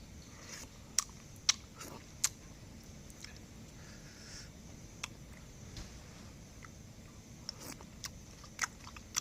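Someone chewing stir-fried spicy rat meat near the microphone, a quiet string of soft bites and sharp crunchy clicks scattered irregularly over a low background hiss.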